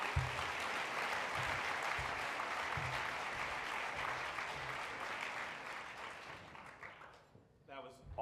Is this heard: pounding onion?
no